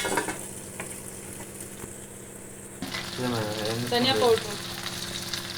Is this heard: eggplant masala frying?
yes